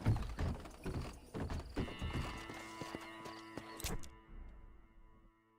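Horse hooves clip-clop at a steady walking rhythm in Red Dead Redemption, close and fairly loud, with a brief whinny or snort partway through before the steps trail off into quiet game ambience.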